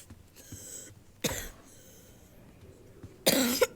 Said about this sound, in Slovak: Môžem prestať kašľať ako úplný dement.